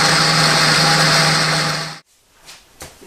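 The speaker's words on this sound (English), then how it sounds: "blender on mix, but I'm going to start to puree it" A blender purees Haitian epis spice mixture, running loud and steady with a high motor whine for about two seconds, then cutting off abruptly and leaving a quiet room with a few faint small sounds.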